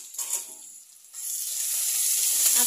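Onion frying in a pan for cabbage masala rice, a brief quieter patch followed by a steady, strengthening sizzle close by, with no talk.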